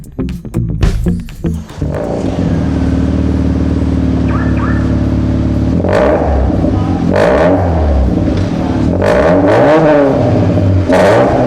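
Hyundai Elantra with a 1.6L engine revving loudly through a dual muffler exhaust, with several rising and falling throttle blips over a steady idle drone, close and dominant.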